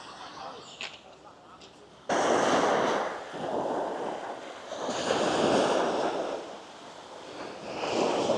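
Waves surging onto the beach of Magadan bay, with a sudden rise to loud, rolling washes of surf mixed with wind noise on the microphone and no talk.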